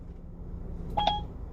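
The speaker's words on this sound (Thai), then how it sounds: "เขาก็จะทำการโทรทันที เดี๋ยวเราฟังสักตื้ดหนึ่งนะคะ" Brief dialing tones from a phone call placed through Apple CarPlay with Siri on an Android car head unit, a short pair of beeps over a low steady cabin hum.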